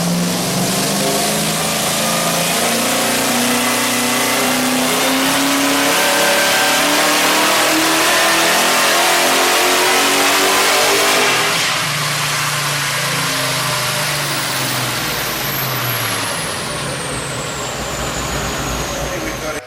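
A high-horsepower car with a turbo 400 transmission, high-stall converter and grippy street/track tyres revs hard on a dyno, a loud sustained engine roar climbing in pitch. It then drops away to a lower idling rumble.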